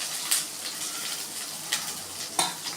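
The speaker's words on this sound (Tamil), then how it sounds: "இப்போ எண்ணெய் சூடானதால வெங்காயம் வந்து நம்ம போட்டுக்கலாம்" Onions sizzle in hot oil for a mutton brain fry, making a steady crackling hiss. A few sharper bursts of spatter and stirring cut through, and no one speaks.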